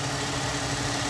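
A 2001 Ford Mustang with the 3.8 Essex V6, running after a fuel injector replacement, idles with a steady, even rumble heard up close and without pause.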